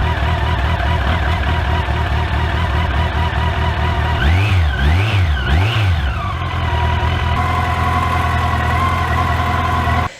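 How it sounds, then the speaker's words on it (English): A Yamaha FJR1300 1300cc motorcycle that has not been started in a while idles loudly up close as it warms up, with a few quick revs rising and falling midway before settling back to a steady idle. "Get warmed up. It hasn't been started in a while"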